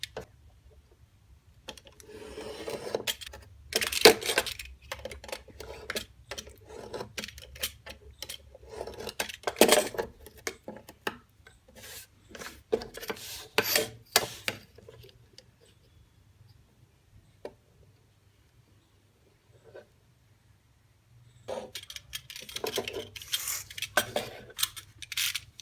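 Paper sheets being trimmed to 13.5 by 7.5 for a desk calendar cover, heard as close irregular snips and rustling handling noises in bursts, separated by quiet pauses.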